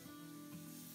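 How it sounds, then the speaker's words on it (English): A Moulard duck breast sizzles on a hot sizzler plate from a pizza oven, a brief, steady and fairly soft frying hiss heard up close. "Oh, listen to that sizzle."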